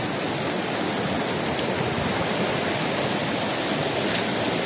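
A mountain waterfall in Kyrgyzstan, among rust-stained rocks, gives a steady, loud, close roar of rushing water that holds constant throughout with no voices.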